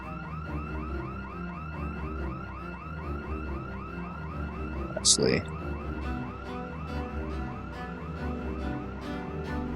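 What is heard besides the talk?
car alarm going off in the video game Project Zomboid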